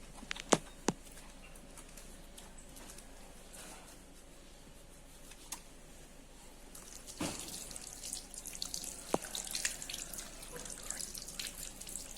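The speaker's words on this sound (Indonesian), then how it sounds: "Dan dilanjutkan dengan cuci tangan dengan 6 langkah" Hands are washed under a running tap in a medical skills setting, giving a soft, steady trickle with a few drips and splashes that grow fuller toward the end, with no speech.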